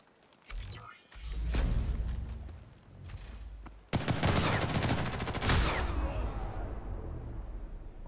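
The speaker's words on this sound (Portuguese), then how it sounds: "Olha o tiro que os caras estão dando" Rapid automatic gunfire fills the Ghost in the Shell video game in loud, dense bursts, with heavier volleys in the second half over constant game noise. No one speaks.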